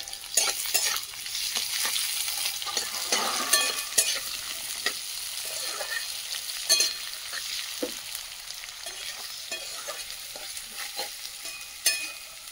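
Chopped onion sizzles and fries in spiced oil in a pan over a clay stove, a continuous crackling hiss broken by sharp scrapes and clinks of stirring, close and fairly quiet, with no one talking.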